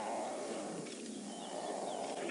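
Lions of the Nkuhuma pride feed on a fresh buffalo kill, a continuous outdoor texture of growling, rumbling and tearing at a moderate distance, steady throughout without pauses.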